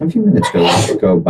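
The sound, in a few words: sneeze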